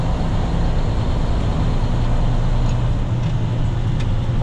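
Truck engine with a 10-speed transmission winding down while slowing, a loud, steady low rumble heard from inside the cab, with faint clicks and road noise and no talking.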